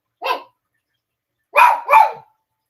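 A dog barks three times: one sharp bark, a pause, then two quick barks close together, loud and near in an otherwise quiet room.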